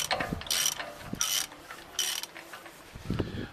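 A ratchet with a 38 mm socket clicks in three quick bursts while loosening a CV joint nut on a Toyota Prado, close and crisp, with brief metallic clunks between.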